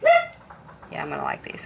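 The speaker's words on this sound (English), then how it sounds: "Sorry for my barking dog." A dog gives a short bark or yip at the start, then someone talks nearby.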